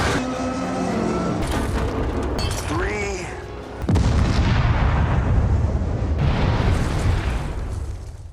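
A bomb explodes in a film scene, a heavy sustained rumbling blast that rises sharply partway through and stays loud for several seconds after an earlier stretch of dense film sound.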